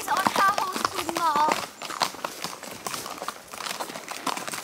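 A pony's hooves clip-clop at a walk on a forest ride, an uneven run of near hoof strikes while a person talks over them.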